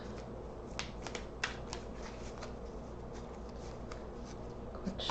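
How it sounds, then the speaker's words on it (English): Cards are riffled and shuffled close up in quick, soft flutters and snaps over a low background hum, with no talking. "Quick shuffle."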